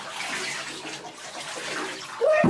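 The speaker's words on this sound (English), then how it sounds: "Look at the doggy getting a bath." Water splashes and rushes steadily as in a filling bathtub while a dog is bathed, close and continuous, with a brief louder splash at the end.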